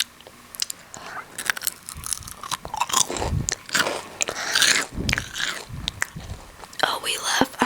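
Close, crisp bites and crunching chews into a funnel cake topped with powdered sugar, irregular and intimate, with soft whispering between the crunches.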